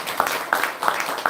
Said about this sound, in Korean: 박수 좀 보내드리겠습니다